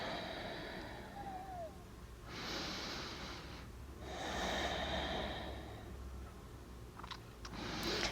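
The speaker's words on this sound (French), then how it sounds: "Je respire." Slow, steady breaths drawn in and let out during a guided yoga-style breathing exercise, several soft broadband swells of air close to the microphone with quiet pauses between them and no talking.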